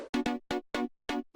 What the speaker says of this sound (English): Chords without effect.